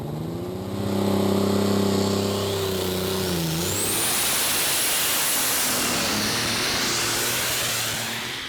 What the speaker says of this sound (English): It's a John Deere 8530 with 4 Holset turbos.